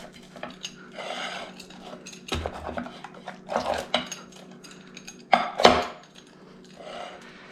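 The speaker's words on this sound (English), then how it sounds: "let's get a cut into this pizza now. You can hear nice and crispy." Knife slicing through the crispy crust of an upside-down pizza, giving several scattered crunchy cracks and scrapes at moderate loudness with pauses between cuts.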